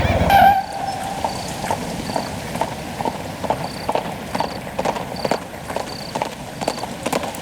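Horse hooves clip-clop in a steady rhythm at a military site on a cold day, with repeated close hoof strikes over a faint background hum, no talking.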